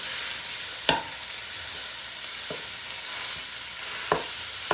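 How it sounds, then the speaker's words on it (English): Ground beef browning with peppers and onions in a pan for a Tex-Mex cowboy stew, a soft steady sizzle with three or four distinct spoon scrapes, close by and without speech. "I just want to cook this until that hamburger is all browned and the peppers and onions are starting to get tender"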